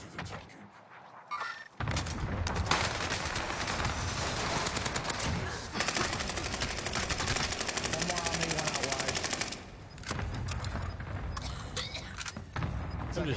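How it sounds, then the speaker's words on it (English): Video game gunfire in a Fortnite-style battle royale tournament: sustained rapid automatic bursts, loud and dense, with brief pauses between volleys and a player's voice talking over it. "I'm just shooting your buddy"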